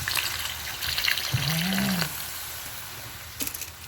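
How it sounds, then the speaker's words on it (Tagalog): A cup of water is poured into a cooking pot in a home kitchen, giving a brief splashing, trickling sound at moderate loudness, with a short spoken word near the start. "Lagyan nyo ngayon ng 1 cup of isang cup ng tubig."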